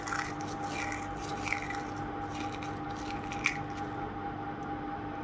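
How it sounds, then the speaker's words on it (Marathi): Crispy dried onion pieces shifting and crackling inside an airtight storage container, a steady dry rustle with a few sharper crunches, close and continuous without talk. "मस्त असे कुरकुरीत आपले कांदे सुकलेले आहेत."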